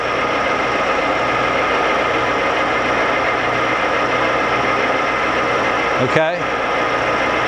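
A Lagun vertical/universal milling machine with a 50-taper geared head runs on quill feed, giving off a loud, steady mechanical hum and whir. Near the end, a brief voice cuts in over it.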